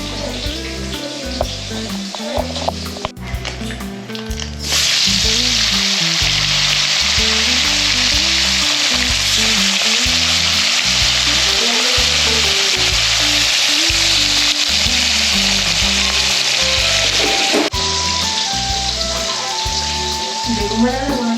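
Bitter gourd slices fry in hot oil in a pan, giving a loud, continuous sizzle that starts after a few seconds and runs steadily for most of the clip.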